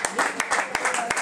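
Audience at a live music show in a small venue claps for the bassist, brief irregular handclaps mixed with a performer's voice speaking over them.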